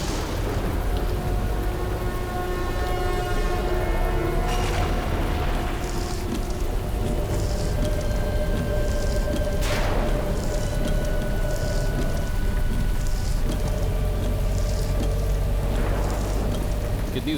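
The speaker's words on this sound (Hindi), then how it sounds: "कितनी जोर की बारिश हो रही है।" Heavy rain pours steadily and loudly throughout on a stormy night outside an old rest house, a dense continuous wash with a few deeper rumbles mixed in and a music score layered over it.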